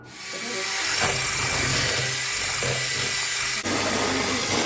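A steady, high-pitched electric whine of a hand mixer runs continuously at close range, with slight changes in tone but no talking.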